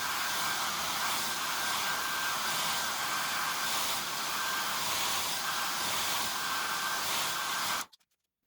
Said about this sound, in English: So I'm just using a hairdryer to heat it up a bit.